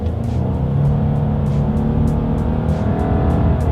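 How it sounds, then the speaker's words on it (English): A 2020 Subaru Legacy accelerates hard up to highway speed, a loud, continuous engine drone and road roar building steadily from inside the car, with no talking. "let's go ahead and see how quickly we can get this new 2020 Subaru Legacy here up to speed"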